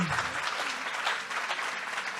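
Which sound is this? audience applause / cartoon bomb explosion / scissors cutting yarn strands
audience applause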